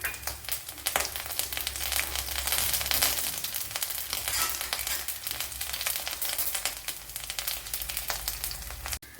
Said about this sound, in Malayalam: 1 ടീസ്പൂൺ പെരിഞ്ജീരകം, പട്ട, തക്കോല, ശകലം കുരുമുളക്, ഇതെല്ലാം കൂടെ ഇട്ട് കൊടുക്കാം.